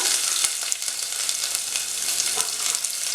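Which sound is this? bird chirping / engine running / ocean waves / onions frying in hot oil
onions frying in hot oil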